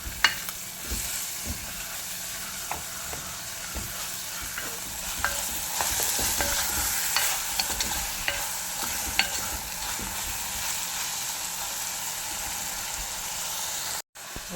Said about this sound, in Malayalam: ജസ്റ്റ് ഒന്ന് എണ്ണയിൽ ഒന്ന് വഴറ്റിയെടുക്കാം.